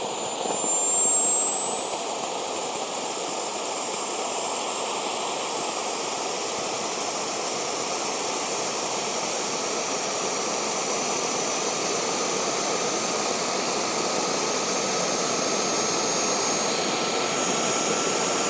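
A Kingtech K45G4 jet turbine runs steadily on a bench test, its loud, continuous high-pitched whine and roaring exhaust holding at a constant pitch throughout, with a slight swell in loudness near the start.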